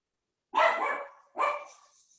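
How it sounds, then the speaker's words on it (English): A dog barks twice, close and loud, with each sharp bark trailing off briefly before the next. "Dog."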